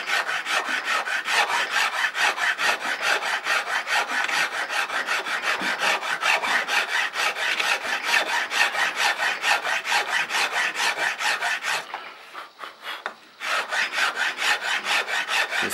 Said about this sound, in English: this gouge here is kind of a medium grit on it